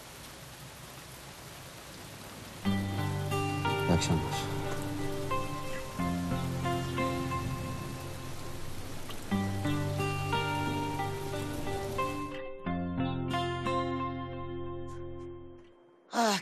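Heavy rain pours steadily over an outdoor scene, a dense wash of noise under a prominent music score, with a brief spoken greeting near the end.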